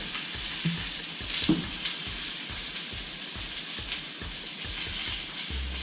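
Salmon cakes sizzle and crackle steadily in a hot pan, a constant close frying hiss with a few faint knocks and scrapes beneath it.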